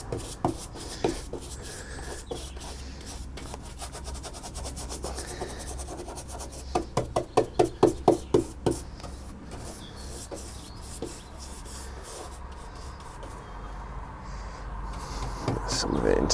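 A brush scrubs rust cure onto the bare metal of a Renault Master van, a series of close, rapid scratchy strokes, with a quick burst in the middle, under occasional talk.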